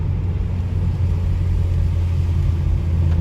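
A 2023 Nissan Versa S with a manual gearbox drives along a road after a storm, giving a loud, steady low engine and road rumble heard from inside the cabin, with no talking.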